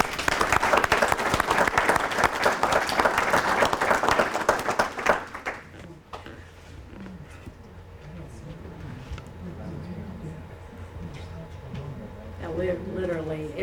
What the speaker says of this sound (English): So let's give a round of applause for the Millers